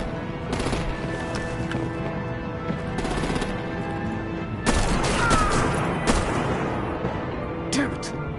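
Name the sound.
artillery gunfire in the video game Batman: The Enemy Within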